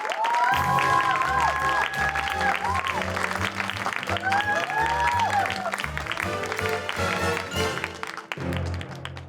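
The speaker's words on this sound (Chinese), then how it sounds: "让我们热烈掌声欢迎我国谐剧双宝王沙、野蜂登场。" An audience at a Singapore comedy stage show applauds and cheers a comedy duo's entrance. The steady applause runs throughout, mixed with loud music.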